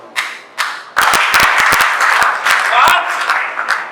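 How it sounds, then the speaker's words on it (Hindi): A crowd at a political rally applauds an MLA's speech: scattered claps build into a loud, dense burst of applause that holds steady for several seconds, with a few sharp, close claps standing out. "ताली मत बजाओ, ये ताली बजा के चले जाते हो"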